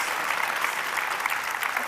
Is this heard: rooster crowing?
no